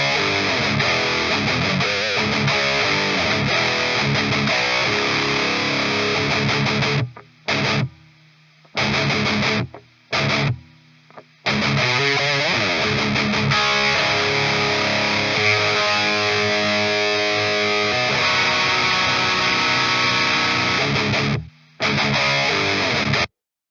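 Heavily distorted electric guitar run through free metal amp-sim plugins plays dense, loud riffs with palm-muted chugs and short abrupt stops, alone with no talking.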